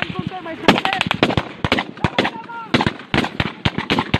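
Sniper and rifle fire crack out during an armed clash between NPA rebels and the military, a dense burst of sharp, loud shots in rapid irregular bursts, overlapping with urgent shouting voices nearby.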